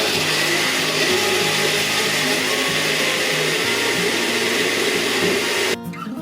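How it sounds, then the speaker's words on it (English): A kitchen blender whirs loudly and continuously as it purees cooked beans with water for bean soup, a steady motor hum that cuts off abruptly near the end. "And you're going to blend this part."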